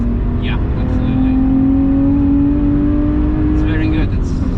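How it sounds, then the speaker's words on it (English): A BMW 1M Coupe's exhaust drones steadily while driving, a smooth sustained engine note inside the car, with brief voices at the start and end. "the sound with this exhaust is just the best"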